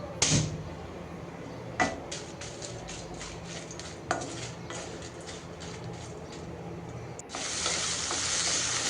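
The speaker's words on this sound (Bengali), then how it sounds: "এরপরে শুকনা মরিচ ভেজে নিচ্ছি।" Dried red chillies frying in a pan, a constant close sizzle broken by clattering scrapes of stirring and a few louder knocks against the pan, building to a stronger hiss near the end, no talk.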